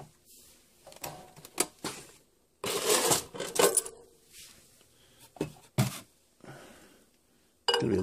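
Inside a van, a ceramic item is set down on a stove amid a series of sharp clinks, knocks and rustling handling noises, irregular and close, separated by quiet pauses.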